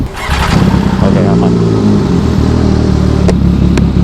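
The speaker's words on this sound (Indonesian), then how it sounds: "gue pengen mengkasih kalian denger suara F3 itu" A Japanese F3 supersport motorcycle engine starts with a sharp burst, then idles loudly and steadily close by, with short revs near the end, while someone talks briefly over it.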